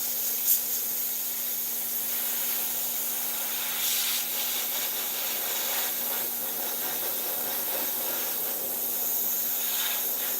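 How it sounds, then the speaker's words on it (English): An airbrush sprays paint into the nooks of a figure, a steady, close, even hiss lasting about ten seconds, with faint intermittent handling sounds and no speech. "when an airbrush is working well, it's working well"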